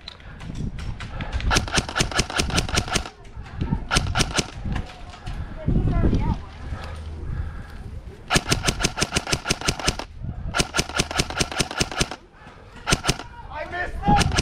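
BB guns fire during an outdoor BB gun fight, with rapid rattling bursts that start and stop repeatedly, close and sharp, as players shout and talk between volleys.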